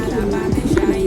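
Domestic pigeons of varied colours, including grizzle birds, coo in a couple of low, rolling bursts close by, over a steady background hum.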